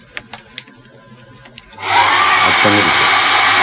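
A hair dryer switches on and blows steadily, warming a decal softened with Mark Softer on a Hasegawa 1/48 F-4EJ model kit, after a few light taps; a loud, constant whooshing roar close by.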